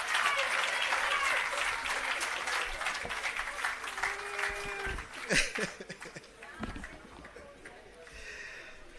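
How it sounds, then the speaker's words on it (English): Applause from an audience at the commissioning of an irrigation system and launch of an agro park in Jamaica, honouring the Prime Minister: broad clapping at the start that thins and fades, with some talk and scattered noises afterward. "Please give him another round of applause."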